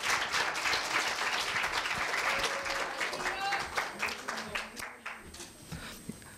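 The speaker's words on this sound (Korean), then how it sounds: "큰 박수 부탁드리겠습니다" Applause from the audience at a Korea University middle school speaking festival as a student speaker is introduced, a dense steady patter of clapping filling the hall for several seconds, thinning slightly toward the end.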